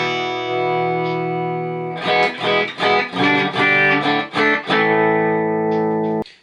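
An electric guitar played through distortion effects on its bridge single-coil pickup, sustained chords broken by a run of choppy rhythmic strums before ringing out and cutting off.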